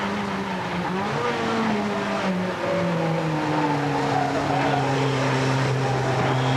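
A 1988 British Touring Car Championship race car, a Ford among them, brakes into a chicane at a circuit and drops down through the gears. A loud engine whine falls in pitch as the car downshifts and then pulls steadily out of the corner.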